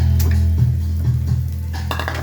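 Metal utensils scrape and clink against a pan as cooked sisig is scooped out, a few quick knocks and stirring scrapes over a low steady hum, close and fairly loud, with no speech.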